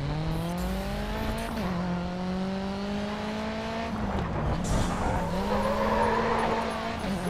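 A race car engine drones and climbs in pitch in the video game Grid 2, dipping briefly at a shift before rising again, loud and continuous with tire noise toward the end.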